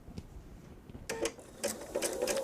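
A sewing machine stitches a jellyroll quilt, running in short rhythmic bursts that start after a quiet moment and grow steadier and louder, close by with no talking.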